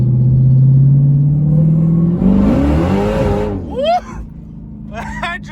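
A Dodge Demon's engine holds a deep, loud rumble and then revs hard, the pitch sweeping up as the car accelerates, before the engine note drops back and a voice whoops over it.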